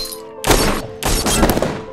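Pistol gunfire in a film scene set during the Boston Marathon bombing manhunt: two loud, close bursts of sharp cracks with booming echoes, separated by a brief pause and trailing off at the end.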